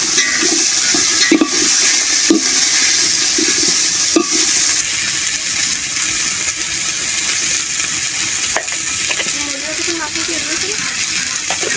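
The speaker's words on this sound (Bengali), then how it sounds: "আমি সবজিগুলো ভেজে নেবো" Winter vegetables for khichuri fry in a pan over a village fire with a steady, loud sizzle that runs throughout. Occasional stirring knocks and faint background voices break through now and then.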